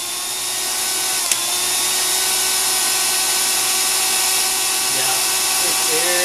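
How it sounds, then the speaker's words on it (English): A blower powering a homemade DIY boot dryer runs as a steady, loud broadband whoosh with a constant motor hum throughout, and a brief click partway in. "Now, let's put our blower on. Remember, you're just giving it a little twist on there. Turn the blower on."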